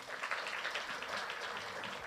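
A church congregation claps at a night prayer service, a soft, even patter of applause that sounds distant and faint.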